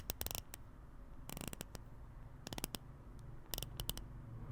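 Bi-directional 72-click bezel on a Wise Adamascus ADX True GMT watch being turned, close, crisp snappy ratcheting clicks in quick clustered bursts separated by short pauses.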